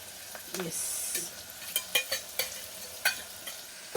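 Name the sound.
spices frying in a pan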